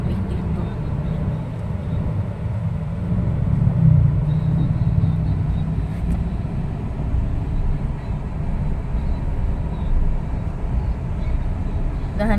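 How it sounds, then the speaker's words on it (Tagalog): Heavy afternoon road traffic with cars and motorbikes, a steady low rumble of engines and passing vehicles that holds at a constant level throughout, with no talking. "Sobrang traffic dito."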